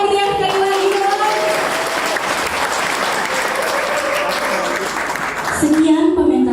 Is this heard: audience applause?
yes